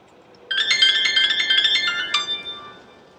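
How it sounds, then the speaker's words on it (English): A mobile phone rings with an incoming call, a bright electronic tone pattern that starts abruptly, repeats for under two seconds, and then fades out, close and alone in a quiet room. "Oh, and we're getting a phone call."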